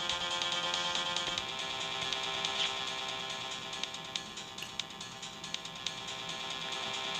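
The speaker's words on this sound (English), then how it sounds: "Oh, the phone!" A phone rings in the Phoenix Wright Ace Attorney video game: a sustained electronic ringtone with a bright, steady, repeating pattern that carries on unbroken at moderate volume, with no voices.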